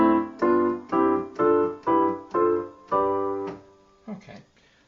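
Piano chords play a stepwise sequence of white-key triads over a G bass in G mixolydian, six sustained chords struck one after another at an even pace, followed by a softer final pair, close and clean.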